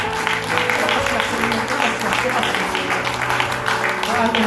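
A church congregation applauds in a steady, sustained wash while a background hum runs underneath, with voices mixed into the clapping.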